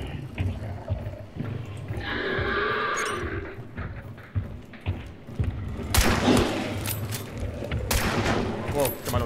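Gunfire in the video game Hunt: Showdown, with bursts of shots and clattering action sounds, loud and close, mixed with horse-like whinnies and hoof noises in the game, with no talk over it.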